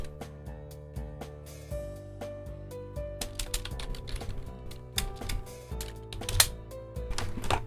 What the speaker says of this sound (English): Hey, quit typing and read.